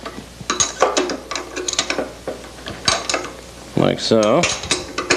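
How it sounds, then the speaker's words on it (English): A wrench snugs nuts on the base of a Weber grill, making quick metallic clicks and ratcheting taps close by. A person speaks briefly near the end. "get the nuts snug, but don't really lean on them"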